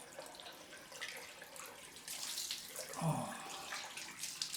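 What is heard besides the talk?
water poured for a cold rinse after shaving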